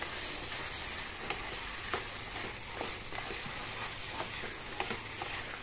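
Chicken meat sizzles steadily in a hot pan for a banana and potato curry, with soft scrapes and clicks as it is stirred every second or so; fairly quiet and close, with no talking.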